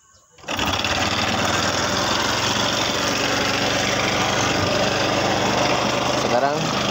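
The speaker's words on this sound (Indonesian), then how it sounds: "Coba kita starter motornya" A motorcycle with a battery that will not charge starts abruptly and then runs at a loud, steady idle with the throttle slightly raised, a continuous close engine drone with no talk.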